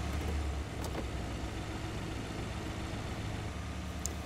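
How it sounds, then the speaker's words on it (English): A 2015-2020 GMC Yukon XL engine idles in park with a steady low rumble, close and continuous, with a couple of faint clicks over the drone. "we'll leave the engine running"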